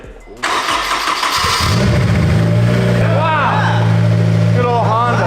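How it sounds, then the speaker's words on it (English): A turbocharged Honda S2000 AP2 with a Greddy exhaust and Greddy turbo cranks and fires up, settling into a loud, steady idle, with voices speaking over the engine. "gonna hear this car start with the Greddy exhaust and the Greddy turbo"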